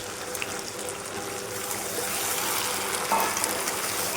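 Potatoes frying in a pan give off a broad, steady sizzle that swells slightly louder partway through, with faint clinks in the background and no voices.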